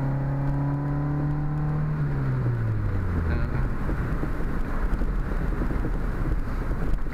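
A 1986 Honda CRX Si accelerating on the road, its engine note rising through a gear then settling into steady cabin drone with wind and road rumble, close and continuous, no talk.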